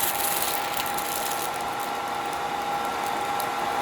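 A small electric nail suction device runs with a steady high whine and airy rushing hum, constant and close, with no voices over it.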